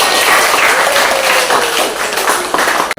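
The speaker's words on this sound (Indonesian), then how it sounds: "Beri tepuk tangan semuanya." A cooking class claps together, a dense, steady burst of applause for about three seconds that stops abruptly at the end.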